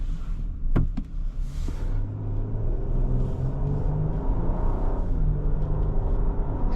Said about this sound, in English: For the size of the vehicle, it accelerates pretty well